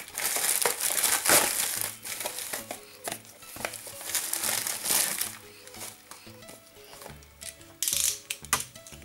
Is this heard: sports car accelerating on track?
no